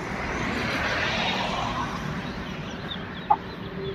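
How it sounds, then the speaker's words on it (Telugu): Native-breed chickens sheltering inside a coop from hot sun give scattered soft clucks over a continuous low ambient hum, with one short, sharper cluck near the end. "ఇక కోళ్ళు ఎక్కడున్నాయంటే"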